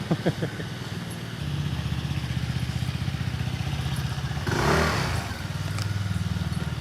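A small scooter engine putters in a rapid steady rhythm in street traffic, with a louder whoosh as a scooter passes close by midway.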